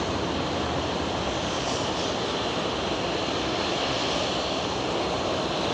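An Airbus A350 airliner passing during plane spotting in Germany gives a steady, broad engine roar that holds at an even loudness throughout, fairly distant with no voices.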